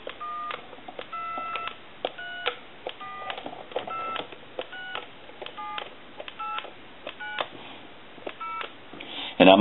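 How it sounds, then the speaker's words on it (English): Touch-tone DTMF beeps dialed on a telephone line during a repair of an old Thomas Wood wall telephone, a series of short evenly spaced dual-tone bleeps, clear and close, ending with a brief click. "I'm going to go ahead and reach around and try to dial some numbers."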